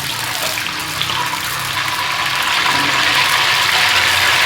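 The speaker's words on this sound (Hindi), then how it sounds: "3 से 4 अदद तेज़ पत्ते, कलौंजी 1 टीस्पून, और इसको मैं थोड़ा सा फ्राई करूँगी।" Bay leaves and nigella seeds fry in hot oil for a fish curry, giving a steady, close, broadband sizzle that swells slightly louder toward the end, with no voices.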